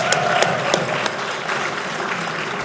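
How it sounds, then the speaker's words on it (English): An audience at an anniversary celebration event applauds with steady, dense clapping that fills the room, loud and sustained throughout. "Let's give them a big round of applause."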